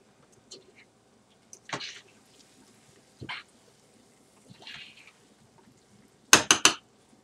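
Cooked rice for golumpki is scraped with a spatula from a big pot into a roaster pan: scattered scrapes and soft thuds separated by quiet pauses, then a sharp metallic clatter at the end.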